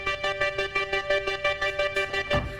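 A self-designed synthesized bass patch in a wave-punk style plays a steady, rhythmic run of pulsing notes with bright harmonic overtones, about a dozen evenly spaced hits over a few seconds, alone and moderately loud.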